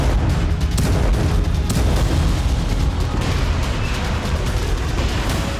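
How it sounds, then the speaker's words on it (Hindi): Explosions from Russian attacks in Ukraine roar as a loud, continuous rumbling barrage of booms that fills the whole stretch without pause. "पिछले 24 घंटे से यूक्रेन की राजधानी कीव समेत कई इलाकों में धमाके हो रहे हैं"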